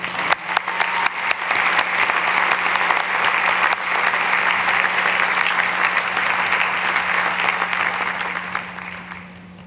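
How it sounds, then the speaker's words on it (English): Sustained applause from a commencement audience at a 2018 graduate ceremony at Bridgewater State University, a dense wash of clapping lasting nearly ten seconds that holds steady before tapering slightly at the end. "Let's give everyone a round of applause."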